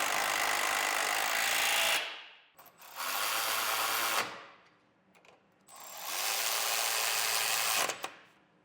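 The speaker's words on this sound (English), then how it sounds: "make sure you go back through with the torque wrench and get those all torqued back down to spec" A ratchet wrench runs in three long, steady bursts of rapid clicking, separated by short pauses, while tightening suspension bolts on a 2023 Toyota 4Runner during an Air Lift 1000 air helper spring install. The sound is close and loud, with no speech.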